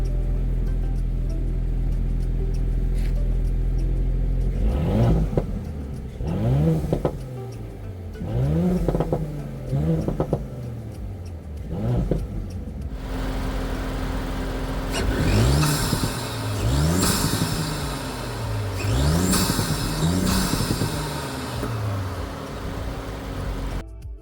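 A 2019 Audi S4 (B9) engine revs repeatedly, each rise and fall ending in crackling exhaust pops and burbles, loud and close with no talking.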